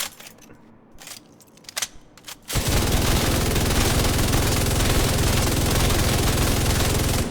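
Rapid, sustained assault rifle fire from The Division 2, a loud unbroken stream of shots that bursts in after a few seconds of quieter clicks and runs to the end.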